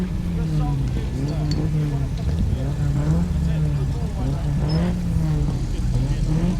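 Vauxhall Royale driving past at an outdoor rally, a steady engine and road rumble that holds close and moderately loud throughout.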